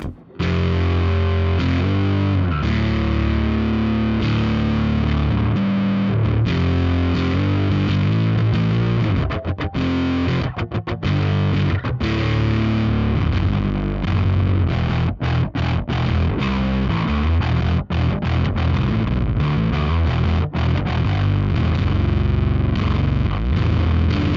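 A Fender Aerodyne Special Jazz Bass plays loud, continuous chords through heavy Rat distortion with a shimmering chorus effect. The sound is dense and sustained, with no voices.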